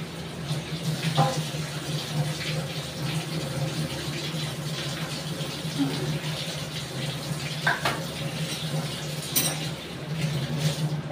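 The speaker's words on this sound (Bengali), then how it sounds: "মাংসটা ধোয়া হয়ে গেল বন্ধুরা, ভালো করে ধুয়ে নিলাম।" Raw meat being washed under a running kitchen tap: a steady, close rush of water with a few faint clinks and splashes now and then.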